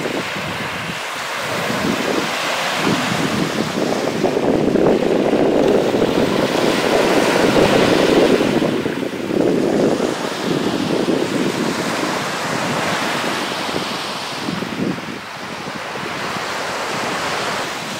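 Waves wash steadily onto the beach at Mimiland, Singkawang, a continuous broad roar of surf rising and easing in slow swells, mixed with wind buffeting the microphone; no one speaks.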